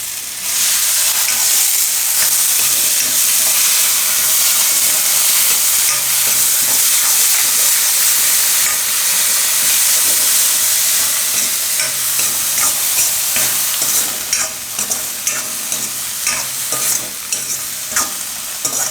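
Green peas fry loudly in a pan on a low gas flame, a dense continuous sizzle with repeated scraping stirs throughout, close and steady.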